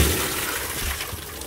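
Water pours and drains out steadily on a houseboat, a constant rushing splash that stays loud and close for the short stretch.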